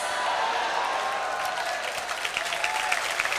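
A church congregation applauds steadily during a night worship service, a dense wash of clapping from many hands that swells slightly toward the end.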